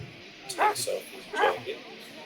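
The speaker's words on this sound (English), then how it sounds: "The dogs still keep on barking." Dogs bark in a few quick yips and woofs during a police search, heard under nearby talk.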